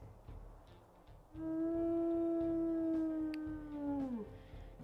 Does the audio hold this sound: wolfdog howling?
yes